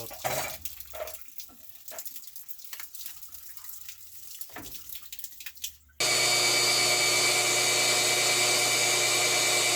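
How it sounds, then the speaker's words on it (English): Supply water surges into a water heater tank being flushed of sediment, a sudden loud, steady roaring rush that starts midway after quieter clattering and handling noises. "We're going to open up the supply water, and that's going to come blasting in and mix up that sediment."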